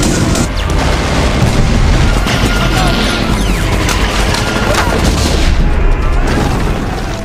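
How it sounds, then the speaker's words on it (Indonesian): Heavy, continuous film battle din of World War II planes exploding one after another, booming blasts and crashing explosions layered over a dense roar, loud throughout and fading slightly at the close. "pesawatnya meledak satu demi satu"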